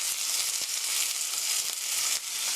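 Onion, green onion and green bell pepper stir-fry in a pan for a cheese omelette, giving a loud, dense, continuous sizzle with faint light taps of stirring.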